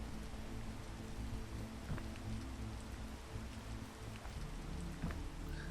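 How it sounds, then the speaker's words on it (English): Steady rain falls across a climbing level in the VR game PEAK VR, a dense, continuous patter with scattered droplet hits and a low rumble underneath, with no voices. "ooh, it's raining"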